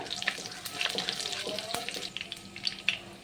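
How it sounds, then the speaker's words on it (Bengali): Whole spices (cloves, cinnamon, cardamom, shahi jeera and bay leaves) fry in hot oil for navratan pulao, a steady close sizzle with small crackles and pops. "লবঙ্গ কয়েক টুকরো দারচিনি আর কয়েকটা এলাচ হাফ চামচ মতো সাজি জিরা"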